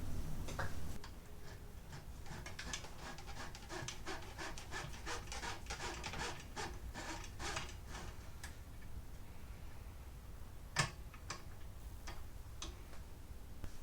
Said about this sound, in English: So now I need to feed the inner cable through